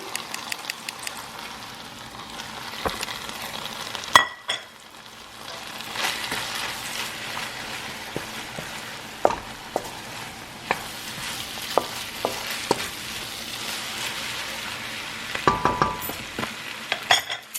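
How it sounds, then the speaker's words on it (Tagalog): Onion and garlic frying in a pan for pancit bihon, a steady close sizzle throughout, broken by frequent stirring scrapes and light clinks of utensils against cookware. "Onion and garlic. Lagay na natin."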